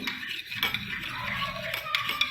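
Castor oil and vitamin E capsule oil stirred together in a small bowl, with a spoon scraping and clinking lightly against the sides in quick, uneven strokes.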